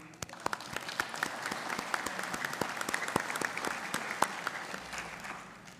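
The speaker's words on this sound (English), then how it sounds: "So I would like for you to give yourself a round of applause." Audience at a nursing school commencement ceremony applauding, a dense sustained round of clapping with individual sharp claps standing out clearly across the whole stretch, fairly close and loud.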